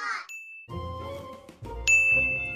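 Bright, sharp ding sound effect of the kind used for comedic movie-mistake tallies, struck twice with a ringing metallic tone, the strikes separated by a musical passage.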